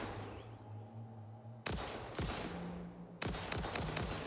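Bursts of automatic gunfire in Satisfactory cut in sharply over a quiet humming backdrop, with three separate loud volleys in quick succession.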